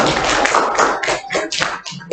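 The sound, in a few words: clapping for group 1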